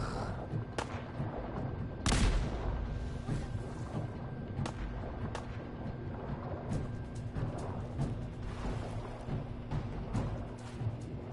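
Gunfire from the video game Fallout 4, played on hard difficulty: a dense, continuous barrage of shots and booms with a heavy burst near the start, steady rumbling fire throughout.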